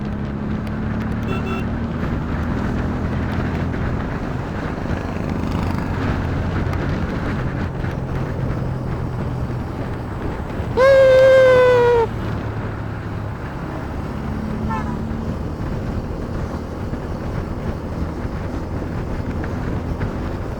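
A strong wind blasts across the open seashore at Dhanushkodi, roaring continuously against the microphone beside a parked motorbike, with waves breaking beneath and a brief high horn-like tone cutting through midway.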